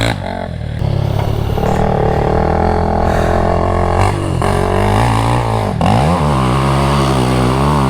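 A Honda CRF250L motorcycle engine revs hard on a steep dirt climb, loud and close, with a sustained buzzing drone that rises and dips through throttle changes and gear shifts.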